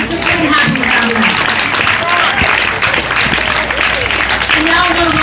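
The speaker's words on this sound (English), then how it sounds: "Let's give them a big round of applause." Outdoor crowd at the Revere Beach Sand Sculpting Festival applauding city council members, loud continuous clapping mixed with chatter and voices throughout.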